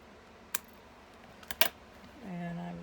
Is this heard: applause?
no